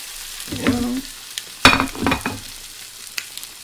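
Spanish potato tortilla sizzles in a pan just after being flipped, bursts of frying crackle with brief clatters of the pan and utensil, separated by quieter gaps.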